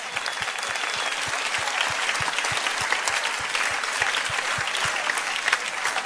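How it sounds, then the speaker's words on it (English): A church congregation claps during a sermon, a full round of applause with a steady rhythmic beat running under it, sustained evenly and filling the room. "You see, some people are clapping."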